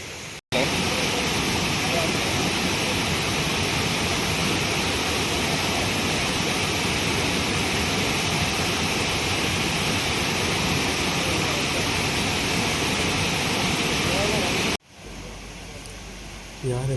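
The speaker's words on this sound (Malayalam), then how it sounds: "നമ്മൾ അവസാനം ബ്രൈമോർ വാട്ടർഫാൾസിൻ്റെ മെയിൻ വ്യൂ പോയിൻ്റ് എത്തിയിരിക്കുകയാണ്." Brimore waterfall in a forest near Thiruvananthapuram gives a loud, steady roar of rushing water that fills the scene without a break, then cuts off abruptly near the end.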